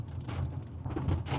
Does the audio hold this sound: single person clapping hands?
no